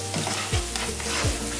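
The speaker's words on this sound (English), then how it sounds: "Keep on stirring your onion, your garlic, your bay leaf" Onion, garlic and bay leaf sizzle in a pan for a chicken curry, a steady frying hiss carrying three or four soft, regular scrapes of a spoon stirring, close and alone.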